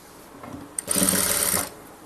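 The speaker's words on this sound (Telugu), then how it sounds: "మనం ఇలా స్టిచ్ చేసుకోవాలి." A sewing machine runs in a short burst of rapid stitching as piping is attached to fabric, close and steady for about a second after a brief click.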